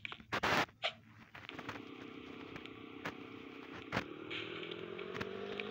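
Motorcycle engine in the Roblox video game, a faint steady drone that rises slowly in pitch, preceded by a few brief clicks and scrapes.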